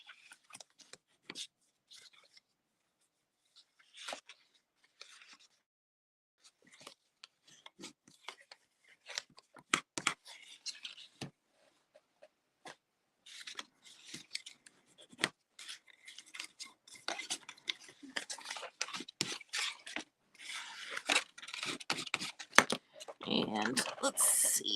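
Paper card stock is creased and folded along score lines by hand for a craft project, giving scattered soft crinkles, taps and scraping rustles that grow busier and louder toward the end.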